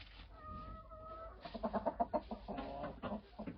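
Young domestic roosters clucking nearby in quick, uneven bursts, with a sustained squawk early on and a busy flurry of short calls afterward.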